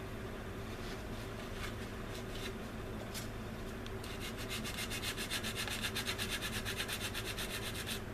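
Abrasive paper rubs back and forth over a styrene plastic part from an Airfix Avro Shackleton model kit, a soft scratchy stroking that grows into quicker, more even strokes in the second half, heard close and without voices.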